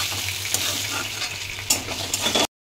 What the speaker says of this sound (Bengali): মাছগুলো আমি লাল লাল করে ভেজে তুলে নিলাম।